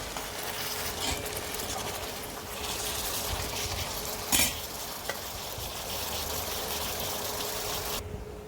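Taro stems cooking with prawns in a pan give a steady close sizzle and frying hiss, with stirring scrapes and one sharp clatter partway through, and no voices.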